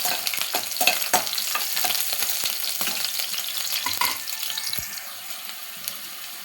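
Green chillies frying in heated oil in a pan for semiya upma: a steady close sizzle broken by repeated sharp clicks of a spoon stirring, with no talk.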